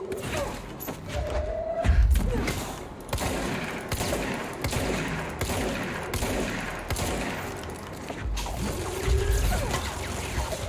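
Gunfire in the video game Control, a burst of shots ringing out around the player near an elevator, with heavy thumps and dense layered game noise that stays fairly loud throughout.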